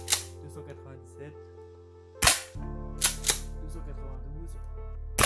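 A Golden Eagle M8874 gas shotgun, an M870-style airsoft pump, fires with a couple of sharp cracks among quieter mechanical clicks and a steady low hum.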